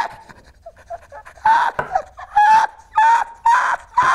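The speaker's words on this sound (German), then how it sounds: "Schnaufen!" Heavy, rhythmic panting breaths, close and loud, come as about five strong bursts in the second half after quieter, scattered breathing at the start.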